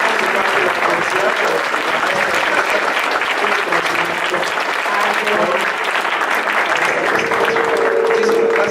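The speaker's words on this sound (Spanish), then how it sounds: "pido que le demos un muy caluroso aplauso" A loud, continuous round of audience applause fills a university event, dense clapping holding steady throughout with a faint voice or two surfacing beneath it.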